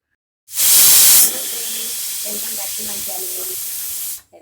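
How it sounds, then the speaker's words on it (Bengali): A pressure cooker of curry with onion, tomato and spices lets out a loud, sharp steam whistle for under a second, then a long steady hiss of escaping steam continues, with faint voices or background sounds under it. "প্রেশারে সিটি পড়ছে, এটা তরকাটা সিটি"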